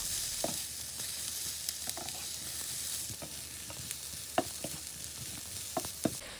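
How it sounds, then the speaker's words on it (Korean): Potatoes and Spam stir-fry in cooking oil with onion and green chili, a constant soft sizzle close by punctuated by a few sharp spatula scrapes and taps against the pan, no voices. "식용유 한 스푼, 맛소금으로 간을 해서 다 같이 볶아주세요. 스팸도 잊지 말고 넣어주세요."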